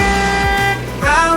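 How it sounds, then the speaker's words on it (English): A bright, toy-like car horn toots loudly in short tonal bursts with sliding pitch, set within an upbeat children's counting song about cars. "Let's honk the horn."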